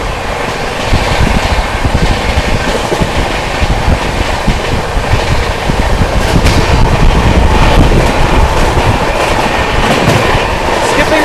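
Passenger train on a Bihar to Delhi run rolling fast along the rails, with a loud, close, continuous rumble and rapid clattering of wheels over track joints throughout.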